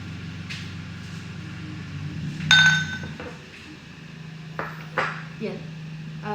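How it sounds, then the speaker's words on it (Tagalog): Glass clinks sharply a few times as a matcha mixture is poured into a glass of milk for a strawberry matcha latte, with short ringing pings over a low background hum. "lagyan nyo na yung matcha mixture nyo dun sa baso"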